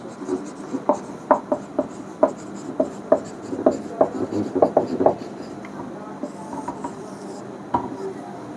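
Chalk or a marker taps and scratches across a board in a physics class as an impulse formula is written, with quick irregular strokes and a few pauses. A teacher's voice runs faintly underneath.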